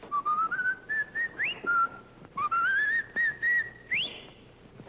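A man whistles a cheerful tune in a 1940 film, clear melodic phrases rising and sliding between notes with short breaths in between, close and alone, over faint background hiss.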